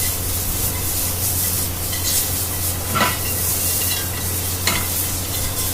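Onions frying in oil and pan residue for beef carbonade, a steady close hiss and sizzle with brief stirring scrapes now and then.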